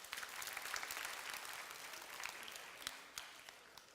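A congregation at a youth service in a Gunsan church breaks into dense, steady applause that carries for about four seconds, with a few sharper claps standing out near the end.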